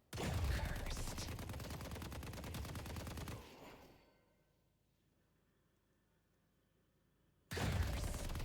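A full magazine emptied in the Deadlock video game: loud continuous automatic gunfire for over three seconds, then near silence, then another burst of shots starting abruptly.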